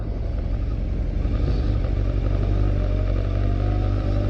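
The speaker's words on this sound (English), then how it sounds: "Nice BMW, dude. Look at that." A BMW M Sport car with twin exhaust passing on a town road in Elgin, Scotland, a loud steady low engine rumble close by that holds level the whole time, with no talk over it.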